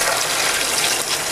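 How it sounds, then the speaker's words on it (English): Cold tap water runs steadily over a freshly boiled egg, a continuous close gush with no talking. "and put it under cold water"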